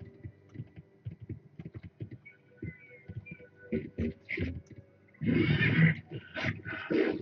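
A direhorse in an Avatar video game gives a short breathy whinny near the end, after scattered soft thumps and faint game tones.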